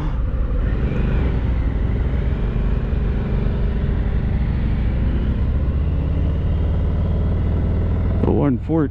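A Harley-Davidson Heritage Classic 114 motorcycle engine on a 2022 demo ride, a steady deep rumbling drone with wind noise held throughout, closing with a brief change near the end.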